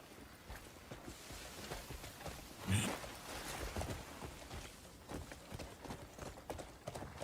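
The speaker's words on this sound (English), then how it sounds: "ride a horse" Horse hooves clip-clop in a steady walking rhythm while riding in a video game, fairly quiet and close, with no talk over them.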